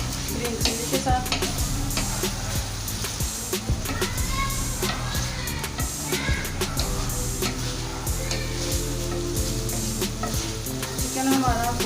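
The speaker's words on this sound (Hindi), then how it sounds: "फ्राई करेंगे अदरक लहसुन और ग्रीन चिली के साथ।" Loud, continuous sizzling of chicken frying in a pan with ginger, garlic and green chili, with frequent clinks and scrapes of a spoon stirring throughout.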